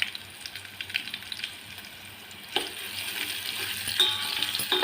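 Oil crackles and sizzles steadily as spices fry in a pan for a sorrel-leaf and chana dal curry, with light stirring scrapes, the frying growing a bit louder and busier partway through; no voices.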